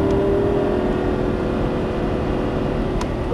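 A Lamborghini Superleggera at full throttle on a racing course, its engine a loud, sustained roar with a steady high tone that holds without a break, close to the listener and drowning out everything else.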